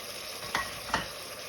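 Two spoon scrapes stir spices through chicken curry with tomato in a pot, each a short swish over a steady soft sizzle, close and moderately quiet.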